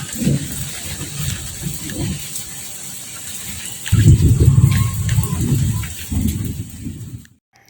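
Rain falling on a garden, a soft steady patter with low rumbling gusts and handling noises nearby, ending abruptly.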